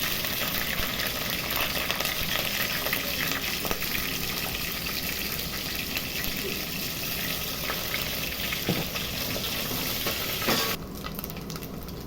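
Small dried fish (mettallu) sizzle steadily in hot oil with curry leaves, a dense continuous frying crackle with occasional stirring scrapes, close and fairly loud, quieting slightly near the end.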